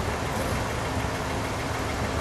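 A black 1976 Cadillac Eldorado convertible with a V8 engine idles steadily for a couple of seconds, with a dense, continuous low rumble and no talk over it.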